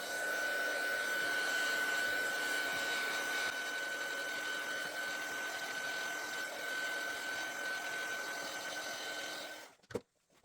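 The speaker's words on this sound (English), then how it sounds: "I just want to come in with my heat gun and give that a blast just to make sure that it's completely dry" Heat gun blasting over drying ink on a card, a steady loud whirring blow with a constant whine that runs for nearly ten seconds, then cuts off abruptly with a click.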